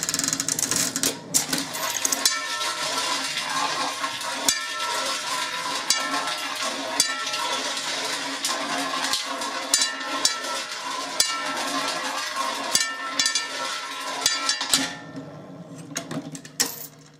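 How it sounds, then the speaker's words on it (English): A Mills coin-operated roulette machine whirs and clatters steadily as it spins, with dense mechanical ticking and rattling throughout, then trails off near the end. "So that's how the roulette machine works for the Mills."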